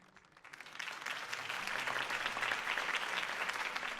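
Crowd applause after a campaign speech for Harvey Dent in a Batman film, starting soft and swelling into a full, steady roar of clapping from a large audience, fairly distant and unbroken by speech.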